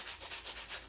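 Coarse 80-grit sandpaper rasping across a painted wooden frame in rapid, rhythmic strokes, close and fairly loud, with no voices.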